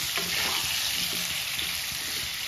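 Potatoes frying in hot oil in a pan for spicy aloo dum, a continuous bright sizzle with faint stirring scrapes underneath, steady and close with no voices.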